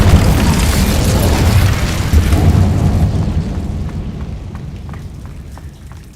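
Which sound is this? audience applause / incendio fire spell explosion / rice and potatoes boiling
incendio fire spell explosion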